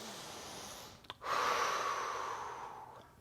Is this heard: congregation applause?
no